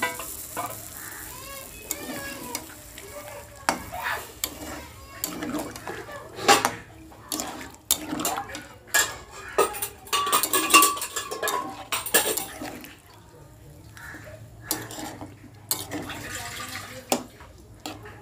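Mutton stock being poured into a pan of frying mutton curry, with clinks of a utensil against the pan and splashing liquid, ongoing for about eighteen seconds at close range.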